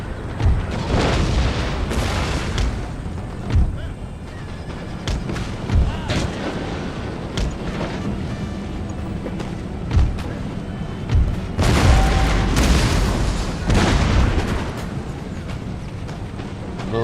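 Artillery fire in Total War: Empire booms repeatedly in irregular, heavy blasts over a rumbling battlefield backdrop, loud and close, with occasional talk.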